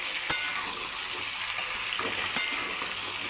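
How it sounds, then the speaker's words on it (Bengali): Potato pieces fry in oil in a pan for aloo dum, a steady close sizzle with two sharp spatula knocks against the pan as they are stirred, and no voices. "এবার এটাকে নাড়তেই হবে নাড়তেই হবে যতক্ষণ না আলু লাল হবে"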